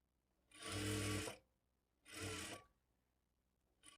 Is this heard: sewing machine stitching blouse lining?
yes